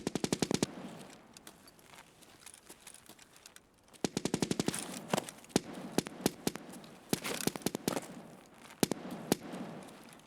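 Automatic gunfire in Escape from Tarkov on the Shoreline map, loud rapid bursts of shots with a pause between, then more scattered single and burst shots with a crackling tail.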